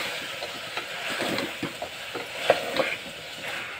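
Finely chopped tomatoes frying in a pan for a Rayalaseema mutton curry, stirred with a spoon, giving a soft steady sizzle broken by light scraping clicks and taps, close and without talk.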